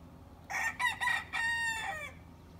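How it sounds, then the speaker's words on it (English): A rooster crows nearby in a long, strained cock-a-doodle-doo with a couple of breaks, fairly clear against quiet surroundings. "These roosters call all day long."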